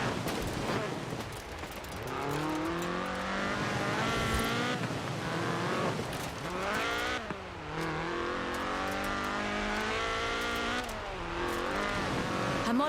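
Ford RS 1800 rally car with a fuel-injected 1790cc Cosworth BDE engine in Forza Horizon 4, revving hard and steadily throughout, pitch rising and dropping through repeated gear shifts, close and loud with occasional tire squeal.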